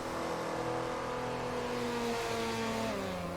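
Engines of a Mazda and a Mustang racing in Assetto Corsa at Silverstone in a 1967 touring car race, one engine tone rising and falling through gear changes over a constant loud drone, with no voices.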